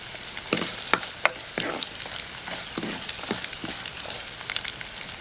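Green chillies frying in hot oil for a green chilli curd curry, a steady close crackling sizzle broken by sharp pops and stirring knocks throughout.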